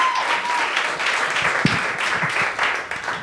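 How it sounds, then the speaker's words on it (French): A comedy club audience gives a comedian a thick, sustained round of applause with scattered cheers. The clapping is steady and fills the room, with a few louder claps standing out. "Un tonnerre d'applaudissements pour Gabriel Duquette!"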